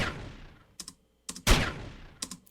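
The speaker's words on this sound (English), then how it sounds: "It's just a gunshot sound from a sample library together." Sound design for a cartoon layers a sample-library gunshot with a synthesizer laser effect made on a Mini Brute, heard as several sharp, bright bursts with short decaying tails and brief gaps of silence between them.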